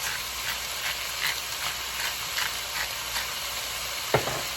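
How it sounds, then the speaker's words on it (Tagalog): Beef sautéing in a pan for Filipino sweet-style spaghetti gives a steady, moderately loud sizzle with soft periodic stirring scrapes and one sharper clack near the end, with no talking. "And we'll saute our beef."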